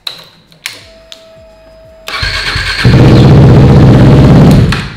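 A KTM RC 390 motorcycle on a fresh lithium battery: a few sharp clicks and a starter whir, then the single engine catches and settles into a loud, steady idle.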